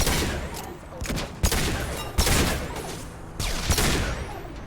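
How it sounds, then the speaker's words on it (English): Heavy pistol gunfire in the video game Mass Effect 2, a steady run of loud, sharp shots with crackling impacts and some battle noise behind them. "I'm just gonna swap over to the heavy pistol for a moment."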